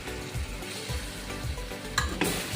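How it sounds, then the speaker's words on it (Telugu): Onion and ginger fry in hot oil with clove, cinnamon, bay leaf and cardamom for a keema curry, making a continuous sizzle broken by a few stirring scrapes near the end, with no voices. "ఉల్లిపాయ వేగిపోయింది అల్లం వేసేసుకుందాం"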